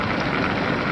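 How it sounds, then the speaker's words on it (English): Steady rain falling outdoors at night, a continuous dense hiss of close, even patter with no talking, heard for under a second. "It's raining."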